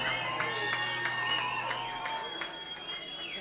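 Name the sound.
crowd applause at live concert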